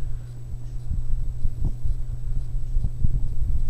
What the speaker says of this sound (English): Here's a fan running with the ambient light.